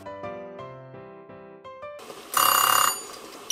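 An electric deep fryer with a lid and filter sounds a run of stepped electronic beeps, then bursts into a loud, rapid ringing like an alarm clock before cutting off.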